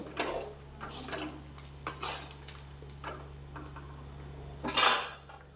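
A spoon stirring sliced big onions in a cooking pot, repeated scraping and clinks against the metal in an irregular rhythm, close and moderately quiet, with a soft sizzle beneath and a louder scrape near the end.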